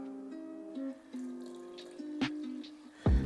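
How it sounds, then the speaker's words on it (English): Two cups of water poured into vegan pancake batter, a short steady trickling stream with small splashes, close and clear, ending in a brief louder splash. "then I'm gonna add 2 cups of water"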